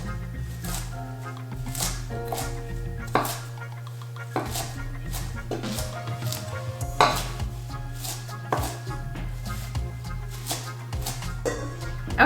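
Knife chopping raw leafy kale thin on a cutting board, with irregular crisp cuts and clatters over a steady low hum, fairly close.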